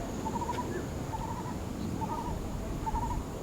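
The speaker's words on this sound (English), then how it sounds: "Nice bird sounds coming from that tree." Birds call repeatedly from a tree along a forest walk at Henderson Waves, Singapore, giving four short, evenly spaced trilling phrases that stand out over steady outdoor background hiss.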